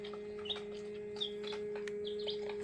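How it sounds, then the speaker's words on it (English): Faint, high chirps from newly hatched chicks in an incubator come in short scattered bursts over a steady low electrical hum, with small taps and rustles between them. "They definitely respond to the sound of the other chicks chirping."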